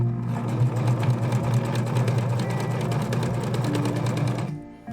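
A sewing machine runs steadily at close range, a dense rapid mechanical whirr and needle rhythm that holds for several seconds before stopping abruptly near the end.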